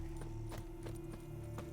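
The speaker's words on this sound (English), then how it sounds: "There's a horse without a rider." Horse hooves clip-clop in The Witcher 3, a riderless horse moving at a steady walk with several distinct hoofbeats over a constant droning game ambience.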